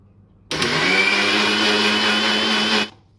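A blender whirs steadily for about two seconds as it grinds dragon fruit into a milkshake, starting abruptly and cutting off cleanly with no voices over it.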